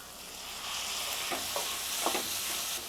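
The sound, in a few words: sautéing small onions and tomatoes in a pan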